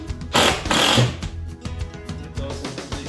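A power driver drives screws into pre-drilled pilot holes in a wooden furniture piece, a nearby motor whirring in two strong bursts followed by lighter, stuttering runs.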